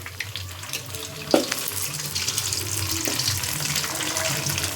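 Two eggs poured into a pan with fried dried anchovies sizzle in a steady, close hiss, with a sharp splash as the egg hits the hot oil and a second smaller one after it.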